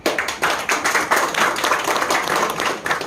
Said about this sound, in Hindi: उन सबों के लिए एक बार सभी को तालियां